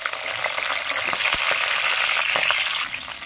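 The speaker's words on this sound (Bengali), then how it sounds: "ফুলকপিগুলোর সাথে ভালোভাবে মিশিয়ে নিচ্ছি এবং লাল লাল করে ভেজে নিচ্ছি" Cauliflower frying in hot refined oil in a kadai, giving a loud, dense and continuous sizzle with faint crackles and pops throughout.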